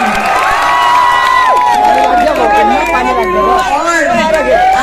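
Large outdoor campaign rally crowd in Dharni, Maharashtra, roaring with loud, continuous cheering and shouting that fills the whole stretch, whistles and excited voices layered over the din.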